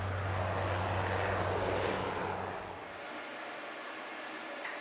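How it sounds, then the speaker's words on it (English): A fixed-wing propeller airplane near the Amundsen-Scott South Pole Station gives a loud, steady engine drone that drops off sharply partway through, leaving a fainter hiss with no speech. "a plane finally had access to the Amundsen Scott South Pole"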